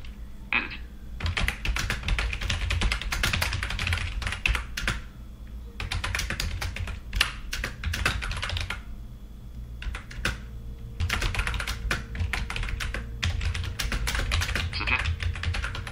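Rapid typing on a computer keyboard at night, dense runs of close key clicks broken by short pauses, with no talking over it.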